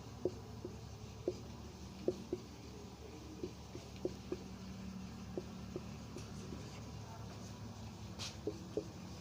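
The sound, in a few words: writing down a definition during a physics lesson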